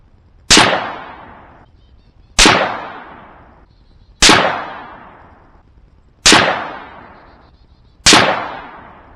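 A Savage A17 semi-automatic rifle in .17 HMR fires five loud, sharp shots outdoors, spaced about two seconds apart, each crack trailing off in a ringing echo.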